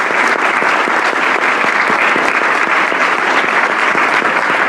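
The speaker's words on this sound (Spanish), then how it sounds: "un gran aplauso por el panel" A conference audience at a policy forum on inclusive growth and poverty gives the panel a big, loud round of applause, dense and sustained clapping filling the room without letup.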